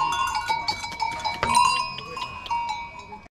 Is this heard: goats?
yes